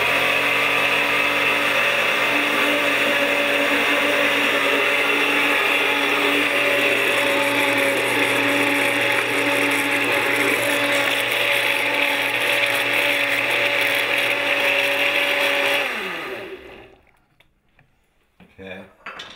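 A blender whirs steadily while blending recipe ingredients, holding a loud, even whine for about sixteen seconds before the motor winds down and stops, leaving quiet.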